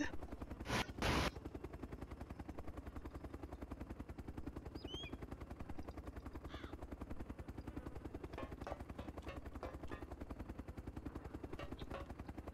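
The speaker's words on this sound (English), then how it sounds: "Where did the heli go?" A helicopter drones steadily in the DayZ Epoch video game during a player base raid, a low rhythmic rotor chop that stays constant throughout, with a couple of sharp bursts near the start.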